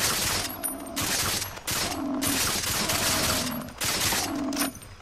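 Far Cry 3 gameplay with sustained automatic gunfire, loud rapid bursts of shots that repeat in dense waves with brief mechanical clicks between them and no voice over them.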